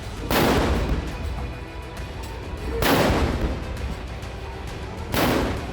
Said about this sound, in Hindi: लाल किले से स्वदेशी तोप से निकले गोलों की हुंकार।